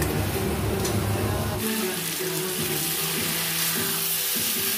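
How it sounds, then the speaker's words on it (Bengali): Young jackfruit pieces fry in hot oil in a pan, a loud, steady bright sizzle throughout, with stirring scrapes in the lower layers and no talking. "দেখো, আমি এঁচোড়টা একটু ভাজা ভাজা করে নিয়েছি।"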